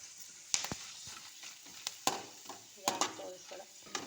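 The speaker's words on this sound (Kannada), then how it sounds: "ಈ ಥರ ಸ್ವಲ್ಪ ತೊಗೊಂಡು ಎಣ್ಣೆ ಒಳಗೆ ಹಾಕಿ ಕರ್ಕೋಬೇಕ್ರಿ." Dried cucumber pieces dropped into hot oil on a low gas flame, sizzling and bubbling steadily with sharp crackles and spatters scattered throughout, close by.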